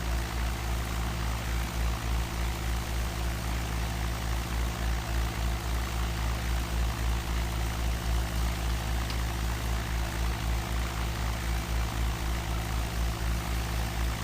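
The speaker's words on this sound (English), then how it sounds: "Sounds like an engine, I know that." A steady, droning airplane engine in a video game hums continuously with a low pulsing throb and no other sounds.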